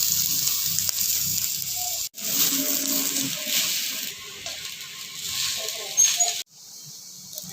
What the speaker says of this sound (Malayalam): ആദ്യം തന്നെ നമുക്ക് ഈ തേങ്ങ ഒന്ന് വറുത്തെടുക്കാം.